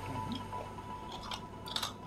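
Crunchy fried food with tartar sauce being chewed up close, a few crisp crunching bites near the end over a steady background hum.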